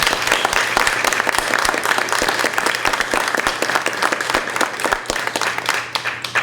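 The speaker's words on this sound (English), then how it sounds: "So let's give him a round of applause." An audience at a Hall of Fame induction event bursts into loud, sustained applause, dense overlapping claps with no pause.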